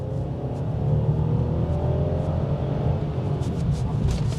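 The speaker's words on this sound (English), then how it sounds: "So if we floor it down," Mercedes E400 under full throttle after a kickdown to third gear, a steady close engine drone with rising harmonics from inside the cabin, continuous for a few seconds.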